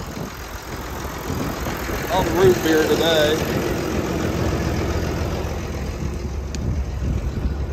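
A Massey Ferguson 1130 tractor engine idles with a low, steady rumble on a farm before plowing, while someone talks over it close by.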